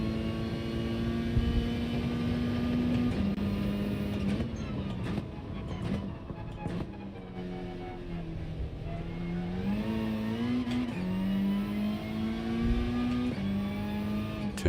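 A race car engine in Gran Turismo 7 holds near full revs, a loud continuous buzzing drone rising and dipping with gear changes and throttle lifts, with faint clicks and no talking.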